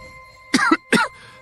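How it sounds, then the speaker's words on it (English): Two short harsh coughs in quick succession, close and loud, from a person in a dramatized historical scene. "Cough, cough."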